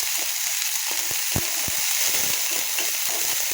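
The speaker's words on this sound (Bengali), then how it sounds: "মশলাটা আমি একসঙ্গে ভালোভাবে আগে কষিয়ে নেব" Spice masala paste frying in a pan, giving a steady close sizzle with scattered soft pops and crackles throughout, no voices.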